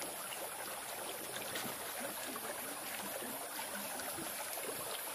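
A river stream flows near a hill beside rice fields, giving a steady, close wash of water with faint trickling detail throughout, without any talk.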